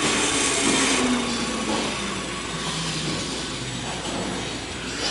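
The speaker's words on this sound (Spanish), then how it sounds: "Vamos a presionar este botón de paro y veamos cómo el motor sigue girando hasta que ya finalmente para." Electric motor on a drive test panel hums steadily after the stop button is pressed, a continuous whirring drone that slowly coasts down while staying fairly even throughout, with no voices.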